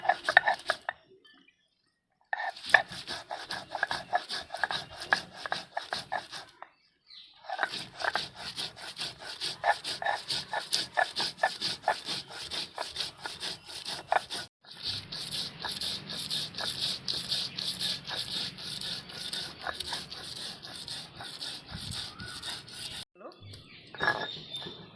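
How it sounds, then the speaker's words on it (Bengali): Mustard seeds ground by hand on a grinding stone, together with salt and green chili: a steady, rhythmic back-and-forth scraping and rubbing that runs on for a long stretch with brief pauses, close and continuous. "এবার বেটে নিচ্ছি, সরষাটা বেটে নিচ্ছি।"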